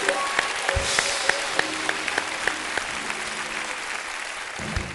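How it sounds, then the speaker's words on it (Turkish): Studio audience at a Turkish television talk show applauding in a steady wash of clapping, with a few louder nearby claps punctuating it and brief low thumps. "Amcama bir alkış."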